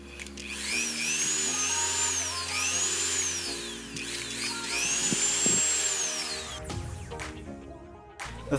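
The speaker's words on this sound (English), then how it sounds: "I just use my Dremel since I haven't really used it much." A Dremel rotary tool cuts intake vents in a cooling platform for an Android TV box, a high whining grind that rises and falls in pitch over several passes before ending in clattering handling noise.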